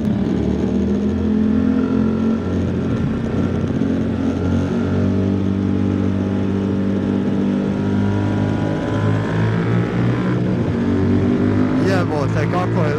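A QJ Motor SRT 800 motorcycle cruises on the road at highway speed with a steady, loud engine drone and wind rush, while a rider talks over it.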